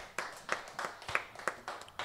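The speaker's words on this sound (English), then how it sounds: "Clap your hands together for Jesus." A church congregation claps hands together in a steady rhythmic beat, about six distinct claps that sound close and moderately loud.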